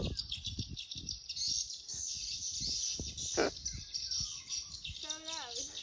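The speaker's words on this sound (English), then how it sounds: "I think that's a megaphone just playing bird sounds." Recorded bird calls blare from a megaphone along a roadside, loud, bright, rapid chirps and trills repeating over a steady high electronic tone, with close voices talking beneath and a few sharp noises.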